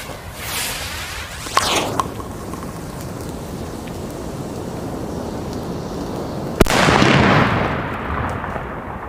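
New Year's Eve firecrackers, a Pironi and a P1, go off outdoors as two sharp loud bangs a few seconds apart, each followed by a rolling echo and crackling tail, with no speech.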